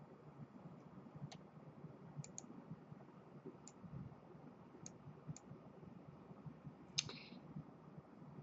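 Soft, sparse clicks of a computer mouse, single taps spaced a second or so apart, faint and close over a quiet hiss of room noise.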